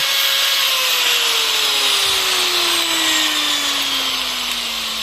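An angle grinder powered by a 1000 W pure sine wave inverter runs steadily with a loud, constant high-pitched whine that slowly drops in pitch, with no pauses.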